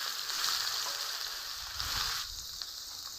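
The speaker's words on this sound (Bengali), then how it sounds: "তেল গরম হয়ে গেছে, আলু দিয়ে দিব।" Potatoes frying in hot oil for a vegetarian vegetable curry give a steady, close sizzle with a brief stir or slosh near the middle, then the hiss settles slightly softer toward the end.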